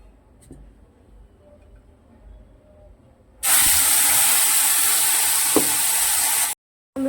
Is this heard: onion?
yes